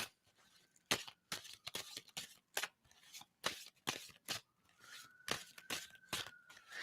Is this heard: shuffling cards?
yes